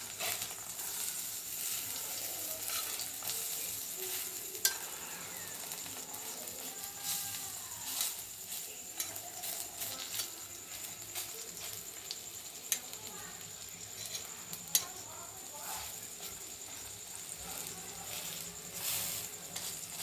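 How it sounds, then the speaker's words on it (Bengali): Onion and gram flour fritters frying in hot oil give a steady, soft sizzle and hiss with occasional small pops, fairly quiet throughout. "ওই একই তেলে দুটো পেঁয়াজ দিয়ে বেসনের পেঁয়াজি মতো করে নিচ্ছি দেখতেই পাচ্ছ তোমরা"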